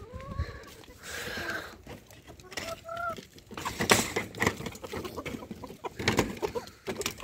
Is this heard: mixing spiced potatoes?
no